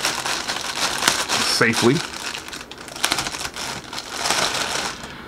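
A blade slices through the plastic packaging of a Tocode Harold travel backpack, giving a brief burst of crinkling and tearing close by, with a voice speaking over it.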